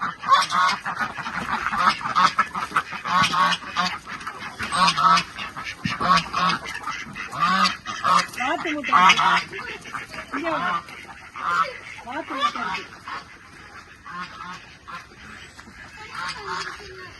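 A flock of ducks quacks and honks continuously, loud and close, with overlapping calls and a voice occasionally mixed in.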